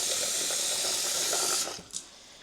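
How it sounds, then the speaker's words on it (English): Water runs from a tap into a cooking pot for rice in a home kitchen, making a steady rushing hiss that cuts off abruptly, followed by a brief small clink. "So let me add some water to this pot."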